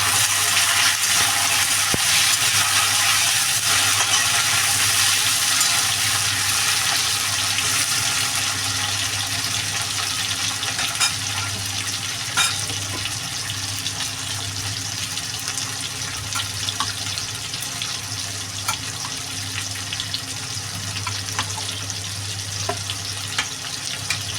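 Sliced onion and tomato fry in a pan for a chicken curry, giving a steady, loud hissing sizzle that runs throughout with occasional crackles and no talk.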